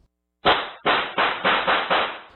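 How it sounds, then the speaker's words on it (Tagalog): Five or six loud, sharp bangs in quick succession from a gun firing, captured on CCTV footage in Malolos, Bulacan, each burst cut off and slightly distorted. "pero may maririnig na putok ng baril"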